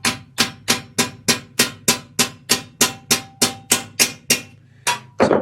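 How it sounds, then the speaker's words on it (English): A hammer strikes a scythe blade held in a peening jig, with about fifteen sharp metallic blows at a steady rhythm of two or three per second, each ringing briefly and then fading, with a short pause before the last hits. "this hits the blade and flattens it out"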